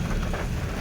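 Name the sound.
heavy rain pouring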